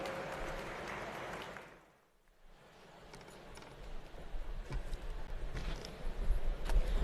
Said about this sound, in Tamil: கைத்தட்டலுடன் அவரை வரவேற்போம்